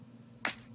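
One snappy, plastic-sounding clap hit, the second punchy clap sample in an FL Studio beat, cracks once, crisp and close, over a quiet low hum.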